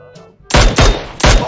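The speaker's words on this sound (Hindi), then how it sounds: "गोलियां चल रही है" Gunfire in the mobile battle royale game PUBG Mobile comes as loud, close shots: a faint distant shot, then three heavy booming bursts about a third of a second apart.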